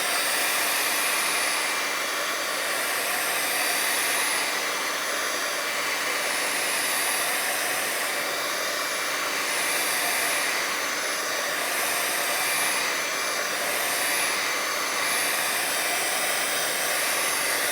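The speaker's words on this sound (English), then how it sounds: "give it a quick shot with the heat gun here" A heat gun blowing steadily on watercolor paint, a loud continuous whooshing hiss that runs unbroken throughout with slight pulsing.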